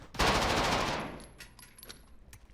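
Rapid MP5 hip-fire burst in a first-person shooter video game, a loud close rattle of shots lasting about a second, then fading into scattered smaller game sounds and clicks.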